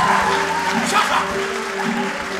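Audience clapping at a student stage comedy show, a steady wash of applause held at even loudness throughout, with sustained tones and some low sound beneath it.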